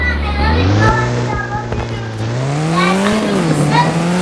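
A loud, close engine of a rear-engined Porsche in a video game drones and revs, its pitch rising and falling, with a brief tire squeal partway through.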